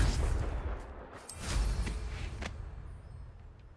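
A Confringo blasting spell in Hogwarts Legacy erupts as a series of sharp cracking bursts over a deep rumble, fading toward the end.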